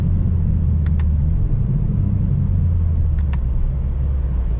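Steady low rumble of a 2025 BMW M4 CS cruising on a road, heard from inside the cabin, with constant road and engine drone and a couple of faint high ticks, no talking.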